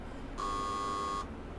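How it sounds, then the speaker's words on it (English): A visual novel doorbell gives a single steady electronic tone lasting just under a second, clear and fairly loud over a low background hum. "I let out a frustrated sigh as the doorbell rang."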